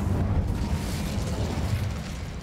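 A fire spell being cast during combat in Hogwarts Legacy: a steady, loud roaring rumble of flames and blasts, heavy in the low end, holding without a break for a couple of seconds.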